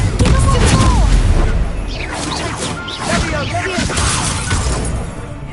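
Fiery Confringo spell blasts from the Hogwarts Legacy game on PS5 crash and shatter repeatedly, loud and close, with booming impacts and crackling debris over a dense rumbling battle din.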